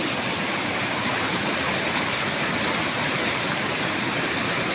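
River rapids at Kaeng Ban Huai Khaen, water rushing over rocks in a loud, dense, unbroken roar, close and steady with no voices.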